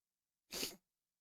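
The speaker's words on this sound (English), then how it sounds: "She said that was her style sneeze." A single quick, sharp sneeze, close and brief, surrounded by silence.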